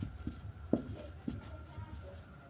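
Pen scratching across paper while a maths problem is worked out, a few soft strokes and taps with one firmer stroke near the start, quiet and close with no talking.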